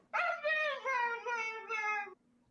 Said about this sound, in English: he's a dramatic husky